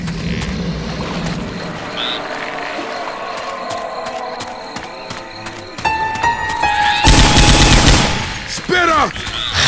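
Gunfire in the zombie shooter Left 4 Dead 2, rapid bursts of shots and mechanical weapon clatter layered with game effects and shouting voices, growing louder toward the end.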